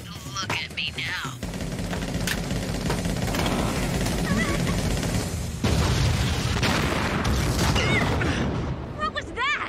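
A dubbed anime explosion as fire reaches high-octane gasoline: a loud, sustained roaring blast fills the scene, with a second surge midway and rumbling continuing throughout, mixed with other effects.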